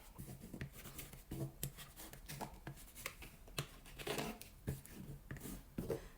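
A dull blade cuts through bikini fabric and lining, giving a quiet series of rough scraping, rasping strokes in an irregular rhythm, close up and faint, with no voices.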